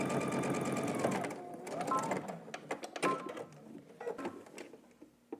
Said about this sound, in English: press your seam allowance towards your center back,